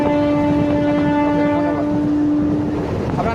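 The Digha–Panskura special passenger train runs with a loud, steady rumble, and a sustained horn tone sounds for most of the stretch, close by with no talking over it.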